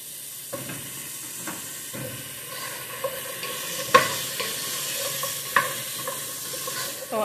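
Potatoes fry in a pan with a steady sizzle while a utensil stirs them, adding occasional scraping clicks and small pops, close by and with no talking.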